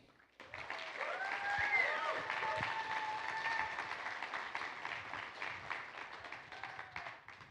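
An audience breaks into sustained applause to welcome Alicia Doyle at an Oxnard College talk, the clapping rising quickly, staying dense and loud, then thinning toward the end, with a few voices mixed in.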